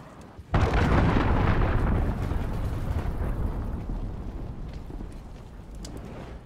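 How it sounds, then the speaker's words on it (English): A loud cruise missile explosion in Call of Duty Modern Warfare bursts suddenly after a moment of quiet, then rumbles and roars on, slowly fading over several seconds. "Enemy cruise missile."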